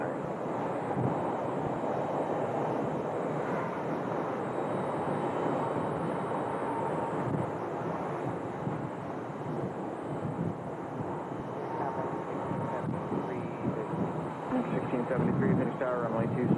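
Airliner landing on runway 26 at Phoenix Sky Harbor Airport at sunset, a steady broadband jet roar with wind rumble that holds loud and even throughout.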